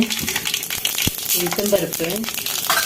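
Mustard seeds crackle and pop in hot oil in a pan, a busy rattling sizzle with sharp pops, while someone talks over it.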